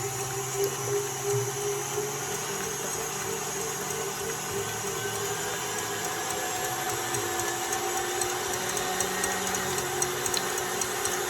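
A KitchenAid stand mixer whips meringue for a coconut cream pie at a steady high speed, making a continuous motor whir with a faint rattle that holds evenly throughout, with no talk.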